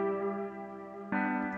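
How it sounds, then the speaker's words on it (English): A sustained synth tone made in Ableton with a filter softening its harsh edge, holding steady and rich in harmonics before a brighter, louder swell cuts in near the end. "I thought it was a little too harsh, so I added a filter"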